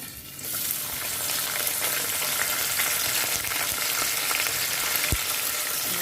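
Garlic cloves and curry leaves hit hot oil with a sudden loud sizzle that holds steady as a dense, continuous crackling fry.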